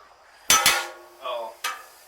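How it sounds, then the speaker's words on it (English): Metal utensil scraping and clinking against a nearly empty butter container beside a wood grill: a few sharp clanks and short scrapes separated by brief silences. "That's about empty, so I'm just going to scratch the rest of it out."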